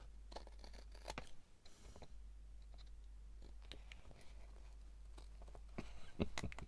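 Scissors snip around a shape in paper while an art journal page is being made: faint, close, irregular crisp cuts and rustles over a low steady hum, with no talk heard.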